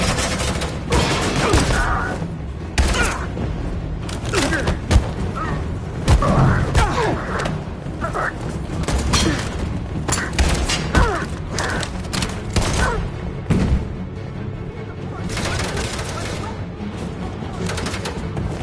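Rapid gunfire and heavy thuds and crashes from a combat scene in the video game Detroit, bursts of shots and impacts rising and falling over a busy, chaotic background without a break.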